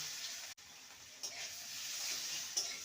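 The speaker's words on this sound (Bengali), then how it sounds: "আলুগুলোকে ভেজে নেব" A soft, steady sizzle of potatoes frying in a pan with turmeric and salt, quiet and continuous, with a brief gap and a couple of light stirring clicks.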